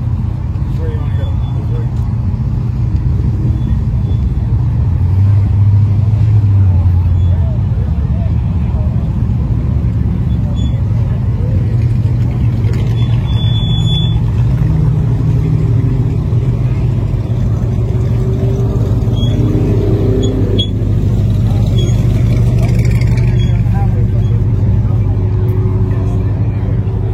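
A blue 1966 truck rolls past with a steady, deep engine rumble that swells slightly partway through, while voices murmur in the background.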